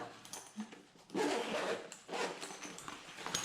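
A zipper on a motorcycle tank bag is pulled open in several quick rasping strokes, close and fairly loud, with no voices.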